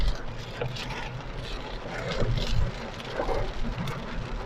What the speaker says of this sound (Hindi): बारिश की स्पीड हो गई है भाई तेज़,